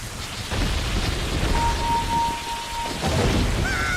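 Steady rain with rolling rumbles of thunder from the Ocarina of Time video game, loud and continuous, with a thin sustained tone and a brief wavering chime over the storm.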